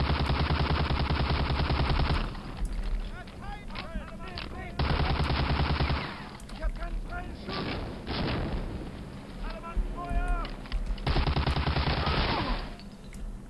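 Bursts of automatic gunfire in the World War II shooter Medal of Honor: Allied Assault rattle in dense, loud volleys between short pauses. Other game sounds fill the gaps, and a voice speaks between the bursts.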